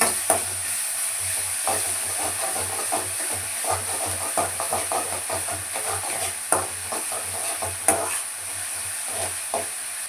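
Sliced capsicum sizzles steadily in a hot pan, with a constant bright hiss of frying and frequent close scraping and clattering as a spatula stirs it, the clicks coming in an irregular rhythm.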